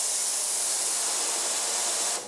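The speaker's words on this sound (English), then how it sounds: "What you're hearing there is the resonant transducers and the mechanical vibration that's going on." Ultrasonic cleaning tank with resonant transducers vibrating, giving a loud, steady, broad hiss that holds evenly before cutting off abruptly at the end.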